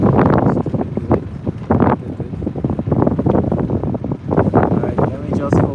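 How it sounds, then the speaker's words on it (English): Strong gusts roar into the microphone out on the water during sea turtle research, loud and buffeting throughout, with a person talking under and through the wind noise. "oh, it's too windy."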